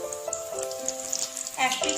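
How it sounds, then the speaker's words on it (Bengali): Chicken cutlets fry in hot oil over a medium flame, a steady soft sizzle and crackle heard close up at low volume, with faint tonal hum beneath. "কাটলেটগুলো আমি মিডিয়াম ফ্লেমে ভাজবো।"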